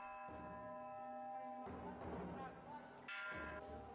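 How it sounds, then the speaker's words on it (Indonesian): A monk strikes a temple bell in a Buddhist vihara a few times during a Chinese New Year celebration, each ringing tone sustaining and overlapping the next, with a busy murmur of voices and activity around it. "biksu memulai mengetukkan lonceng yang ada di dalam vihara"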